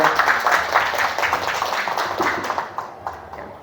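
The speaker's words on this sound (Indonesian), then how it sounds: "kita awali dengan tepuk tangan lah bagi ini untuk kita semuanya" An audience at a group activity session claps in a brisk, close round of applause that fades gradually toward the end, individual claps becoming distinct as it thins out.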